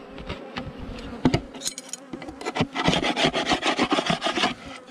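Honeybees buzz close up amid scraping, rasping contact sounds at the hive, with irregular bursts of rubbing and buzzing that thicken in the second half.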